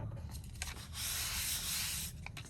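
Excess material rubbed off faux vellum paper by hand, a steady close scratchy rubbing with brief strokes that swells into one longer, louder scrub in the middle before tapering into short rubs.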